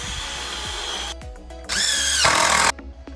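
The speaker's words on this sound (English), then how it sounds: "Pre-drill, screw them in." A power drill whirs in two bursts, the second louder and higher-pitched as it pre-drills into wood for a garden compost bin fence, with brief quiet handling between.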